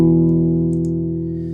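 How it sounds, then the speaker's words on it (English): The Trash plugin gives a loud amp distortion effect: one sustained, buzzing distorted tone that rings steadily and fades slightly. "the combination of distortion and an amp is just great"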